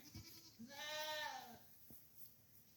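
A dairy goat on a hot summer day gives one drawn-out, whiny bleat that rises and falls, with a few soft knocks around it and faint background noise.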